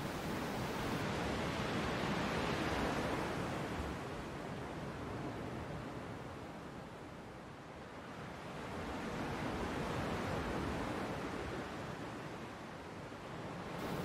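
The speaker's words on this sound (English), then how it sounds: "the credits continue the subtle roar of the sea" The sea's low, subtle roar plays over the end credits of the film Atlantics: a steady, soft wash of surf and wind that swells and ebbs slowly, with no voices.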